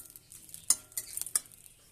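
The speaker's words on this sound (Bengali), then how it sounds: "দিয়ে দেবো তেল, দেব শুকনো লঙ্কা, তেজপাতা" Dried red chilli and bay leaf hit hot oil in a kadai and give a faint crackle. A few sharp metallic clinks and taps from a utensil against the pan break through a quiet background.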